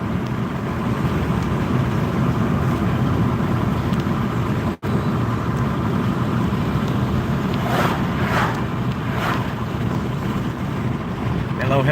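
Steady road rumble and wind noise from inside a car driving down the road, continuous and fairly loud for the whole stretch, with one brief dropout midway and a few faint chirps near the end.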